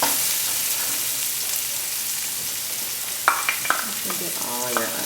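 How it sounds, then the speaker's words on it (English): Chopped onion and garlic sauté in a hot pan for Peruvian cilantro rice, a steady close hiss that picks up a few quick stirring clicks and scrapes near the end. "So we're gonna go ahead and add our chopped onion and garlic. Okay, I'm gonna go ahead and saute that."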